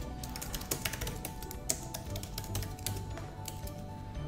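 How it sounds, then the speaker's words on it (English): Keys clatter on a computer keyboard in an irregular run of crisp, close taps, some louder than others, with a faint steady hum underneath and no voices. "So we can simply type straight onto the page."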